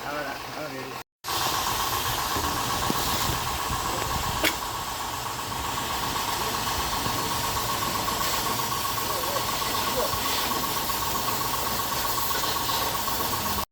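A freshly serviced motorcycle engine runs steadily at a garage, a close, continuous hissing drone that breaks off for a moment near the start and then holds even to the end.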